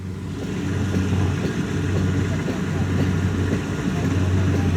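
A rice harvesting machine runs steadily in a rice field, a loud continuous engine drone with low mechanical hum, close by and unbroken throughout.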